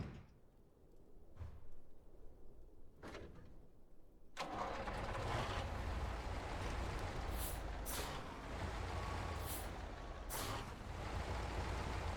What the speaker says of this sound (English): I have to detach it and turn the truck first.